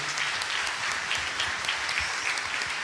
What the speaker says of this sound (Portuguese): Você pode aplaudir Jesus bem forte, bem bonito.